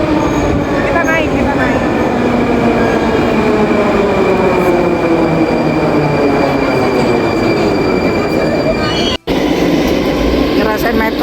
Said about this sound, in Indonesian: Ngerasain metro di Moskow.